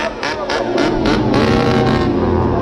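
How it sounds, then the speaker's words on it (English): A chainsaw engine is revved repeatedly by a man walking around at a festival, giving a series of rhythmic, roaring bursts with a steady droning undertone, close and prominent throughout. "This man is going around with a chainsaw and revving it for no apparent reason"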